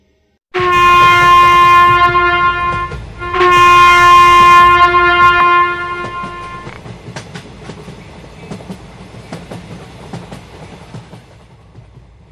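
Animated horror story scene of a train running on rails, with a loud sustained horn sounding twice up close, followed by the rhythmic clatter of wheels fading over the rails.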